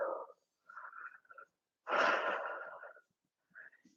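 A breathy exhale during a yoga pose, heard as a long soft airy whoosh, is flanked by shorter breathy sounds before and after in a quiet room.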